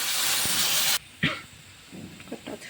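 Water poured into a hot pan of fried spices, potato and vegetable stalks gives a loud, steady sizzling hiss for about a second, then it drops away into quieter, scattered crackles and bubbling.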